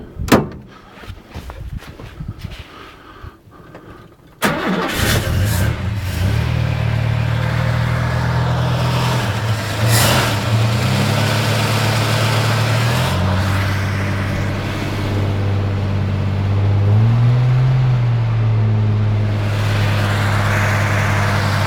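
A car engine is cranked and catches after a few seconds of clunks and rattles, then runs loud and close, revving up and down in several swells before settling back toward a steady idle.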